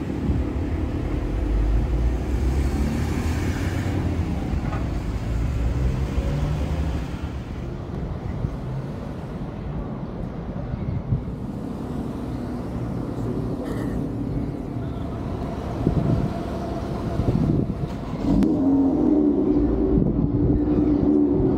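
Lotus Emira GT4 driving on a public road during a test drive, heard from onboard as a steady, loud engine and road rumble that holds throughout, with small swells in level near the end.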